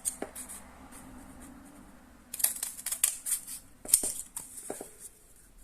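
Scissors snip through paper during a craft project building a locomotive candy box, giving a few quick, close, crisp cuts with light handling noise and pauses between them.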